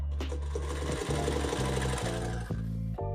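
A sewing machine runs steadily, its needle stitching through folded fabric to close a corner, with a loud continuous mechanical hum and brief pauses and restarts near the end.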